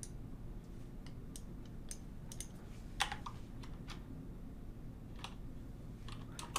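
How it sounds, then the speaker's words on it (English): Keys clack on a computer keyboard in irregular bursts of typing over a low steady hum, with a few sharper taps standing out. "I think I was typing it wrong."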